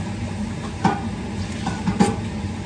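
Spoon stirring a large pot of spicy crab, with a steady sizzling simmer underneath and two or three louder scraping knocks as the heavy pieces are pushed around.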